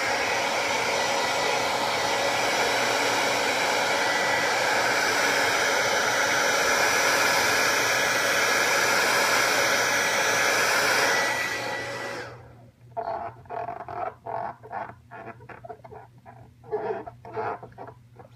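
A heat gun runs as a steady, loud broadband blowing whoosh, heating a wet decal on a motorcycle fairing, then cuts off abruptly, leaving quiet handling clicks and rustles.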